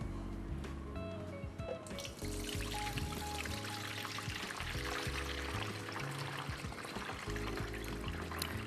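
Milky rinse water pours off sushi rice in a bowl in a steady, continuous gush with splashing, close and fairly quiet, without talk.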